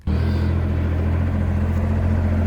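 A dumper's engine runs loud and close while driving, a steady low rumbling drone that holds at an even pitch throughout, with no one speaking.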